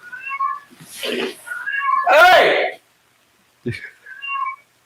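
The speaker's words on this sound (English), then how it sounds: "So that's my fucking cat in the background." A pet cat meows loudly and repeatedly close by, drawn-out cries with a rising whine, pausing briefly before a final shorter meow; a person briefly calls out over it.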